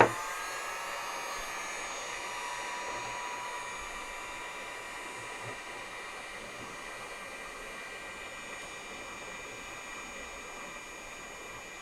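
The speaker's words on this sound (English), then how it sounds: "here is my heat gun, and I'm going to use that to not burn him up, but just to try to add enough heat to melt this" A heat gun blows hot air to melt hot glue on a Macintosh SE analog circuit board, a steady close whooshing hiss with a faint motor whine that holds nearly unchanged throughout, with no talking.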